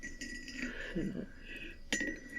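A sleep-aid poultice stirred in a bowl, heard as soft scraping and a few light clinks of a utensil against the dish, close and quiet, with a faint voice underneath.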